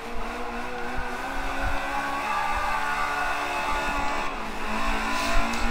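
Racing car engine in Forza Motorsport 5, a light car downshifted to third gear while sliding through a corner; a steady, loud engine drone with gear changes runs throughout, with faint tire noise.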